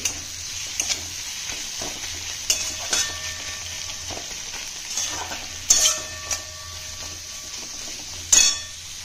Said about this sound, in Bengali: পেঁয়াজটি ভালোভাবে ভেজে নিতে হবে।